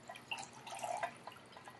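Warmed homemade beef bone broth pours into a container in a soft, continuous trickle with small splashes and drips, faint and close throughout.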